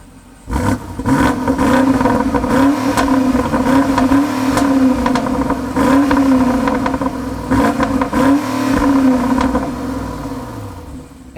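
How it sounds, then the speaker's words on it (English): A 2020 BMW X6 M50i with a V8 engine revs hard several times in a row. The exhaust roars loud and close, and each blip falls away between the rising pulls. "This is the V8 model, so you guys probably want to know what it sounds like real quick."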